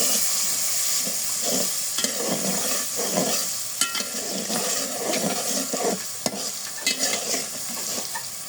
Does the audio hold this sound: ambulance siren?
no